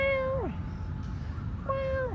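A cat on a street in Thailand gives two clear meows, each a tonal rising-then-falling call, near and fairly loud over a low background rumble with a pause between them.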